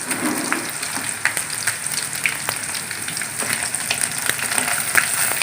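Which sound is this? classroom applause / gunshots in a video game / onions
onions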